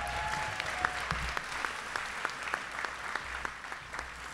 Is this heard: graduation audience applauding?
yes